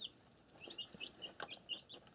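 Small day-old chicks eating dinner in a fresh-bedded brooder, giving soft, high peeping chirps in a scattered, irregular run, fairly faint and close by with no talking.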